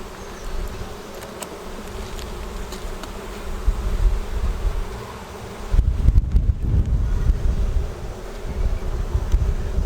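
Honeybees buzz in a dense, continuous drone around an urban hive in Ivry, close to the microphone, and gusts of wind rumble over it partway through.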